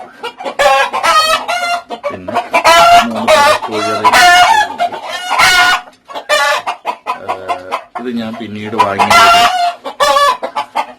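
Roosters crow loudly and repeatedly among clucking native hens in a small backyard flock, near and dense, with someone speaking in between the calls.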